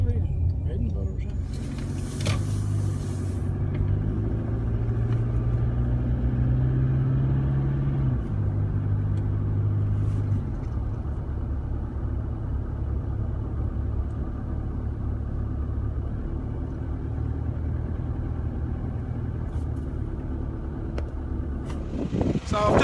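A Toyota Hilux driving, its engine a steady low rumble throughout, with people talking over it.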